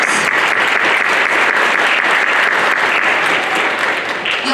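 An audience applauds a student band performer, with dense, steady clapping filling the space at high volume throughout.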